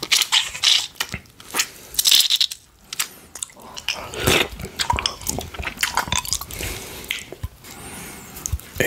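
Close, wet mouth sounds of someone eating ripe mango: juicy chewing, squishing bites and small drips in an irregular rhythm, with no talking.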